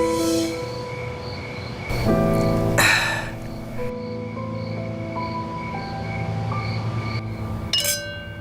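Glasses clink together in a toast, several bright ringing taps spread across the moment over a faint steady room hum.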